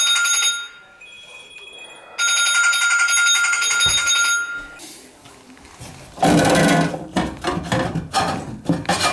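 A phone rings with an incoming call in a bathroom where a rotted copper fin baseboard heater is being replaced; two bursts of loud, bright electronic ringing are followed by clattering work noises and faint voices.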